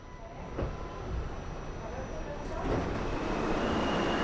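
Steady rumble and hiss of a New York City subway train idling at a busy station platform during morning rush hour, with a faint high whine and occasional clanks.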